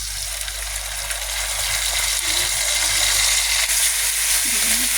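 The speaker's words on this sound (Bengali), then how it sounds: "বাদামি কালার পেঁয়াজ হয়ে গেছে, এখন আমি এর ভিতর দেব আদা রসুন বাটা" Ginger garlic paste sizzles as it hits browned onions in a pan for a prawn curry, a steady close broadband hiss with faint stirring underneath.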